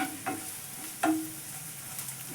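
Coriander-cumin powder is stirred into hot oil in a frying pan over medium heat, a soft continuous sizzle broken by two distinct scraping strokes of a spoon; no voices.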